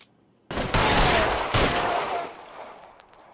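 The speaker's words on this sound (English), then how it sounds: "Covering fire!" Sustained burst of gunfire in the video game L.A. Noire, a loud dense volley of rapid shots starting abruptly, then a second surge before tapering into scattered fainter echoes.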